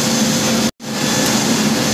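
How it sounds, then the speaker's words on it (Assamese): A large air blower at an automatic car wash in Moranhat, Assam roars as a loud, steady rushing whoosh, cutting out for a split second partway through before surging back, with no voices. "এতিয়া এইটো ব্লোৱাৰটো ষ্টাৰ্ট হ'ব মানে এই আমাৰ হাৱা মাৰিব"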